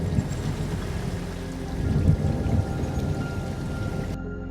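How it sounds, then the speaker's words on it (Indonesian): Heavy rain falling steadily as a story sound effect, a dense continuous patter with a low rumbling undertone like distant thunder, loud and unbroken until it cuts off abruptly near the end. "Langit mulai gelap, ternyata bukan karena menjelang malam, namun karena mendung dan tetesan hujan mulai turun."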